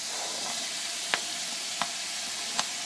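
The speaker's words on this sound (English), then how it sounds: "So we got our bacon going in there. We're just going to add all that onion." Bacon and chopped onion sizzle in a pan on a Big Green Egg, a soft steady hiss broken by three brief stirring scrapes, fairly quiet and alone.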